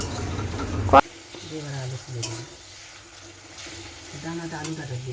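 Ground turmeric, chilli, cumin and coriander with ginger are sautéed in a pan, giving a soft sizzle and stirring scrapes after a sharp clank. A voice speaks over it.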